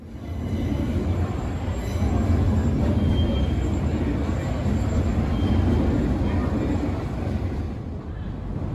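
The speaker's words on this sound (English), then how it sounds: "the steady rumble of trains, which pass over every few minutes" A continuous heavy rumble of a train rolling overhead on the railway viaduct at Borough Market, London, steady and loud, with faint metallic squeals riding on top throughout.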